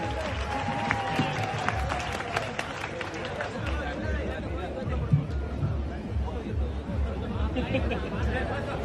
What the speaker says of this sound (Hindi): जोरदार मेरे युवा भाइयों एक बार तालियां फिर से बजा दीजिए अरविंद सिंह जी के लिए